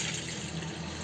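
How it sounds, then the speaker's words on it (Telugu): Water pours briefly and steadily into a cooking pot to boil peeled ganji tubers, a soft, close splashing stream in a quiet kitchen. "నీళ్ళు పోసి"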